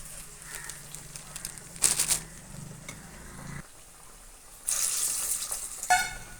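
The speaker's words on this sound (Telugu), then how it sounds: "ఇలా వడలా చేసుకుని మనం ఆయిల్లో ఫ్రై చేసుకోవచ్చు" Lentil vadas frying in hot oil give a steady sizzle and crackle with louder bursts at moments, close and alone, with no talking.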